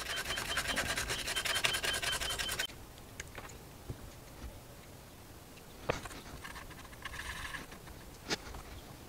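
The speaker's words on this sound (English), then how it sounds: "Just have some sandpaper." Sandpaper rubbing by hand on a handmade folding knife, a steady scratchy scrubbing at first, then quieter intermittent strokes with small clicks and taps.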